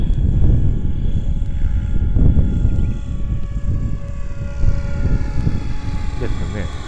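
A radio-controlled REX700 helicopter, a large 700-size model, flies on a windy day with a steady rotor and engine drone at some distance, while people talk over it.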